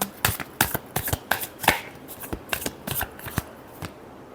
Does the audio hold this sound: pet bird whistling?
no